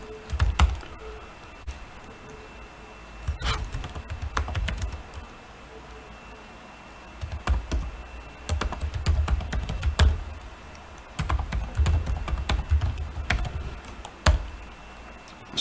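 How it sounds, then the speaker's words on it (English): Computer keyboard clicked in bursts while code is typed for a Uniswap v2 token-swap app built with Web3 and React, close and fairly loud, with short pauses between runs of keystrokes. "we'll type the code and explain it to you"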